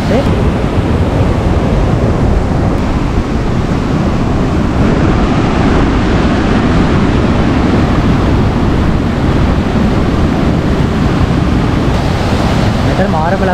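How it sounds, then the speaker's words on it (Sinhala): Rushing water at the top of Laxapana waterfall near Nawalapitiya, Sri Lanka: a steady, loud broadband roar that fills the whole stretch without pause. "දැන් ලක්ෂපාන වෝටර්ෆෝල් එකේ උඩටම ඇවිල්ලා ඉන්නේ."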